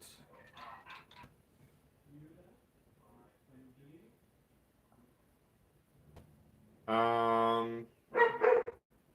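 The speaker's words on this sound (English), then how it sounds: "Sorry about the dog barking." A dog barks in two loud bursts near the end, a sustained bark followed by a few sharper yips, after quieter talking and faint background sounds earlier in the clip.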